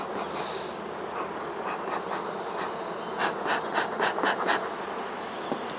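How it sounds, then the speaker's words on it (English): A dense, steady buzz of many honey bees at a top bar hive, fanning, close and continuous, with louder swells as bees pass near. "there are a lot of bees here"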